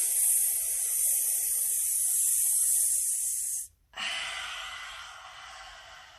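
Deep breaths drawn in and let out as a breathing exercise: a long, close airy inhale, a brief pause, then a strong hissing exhale.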